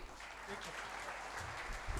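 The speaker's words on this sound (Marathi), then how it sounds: "टाळ्या होऊन द्या द्या जोरदार." An audience at an award ceremony honouring Sindhutai Sapkal breaks into applause, heard as a dense, steady wash of clapping, with voices mixed in.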